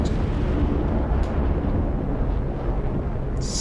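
A heavy, sustained rumbling blast from a bomb destroying a tank in the DCS F-16 flight simulator game, a loud, steady low roar filling the whole moment with no talk.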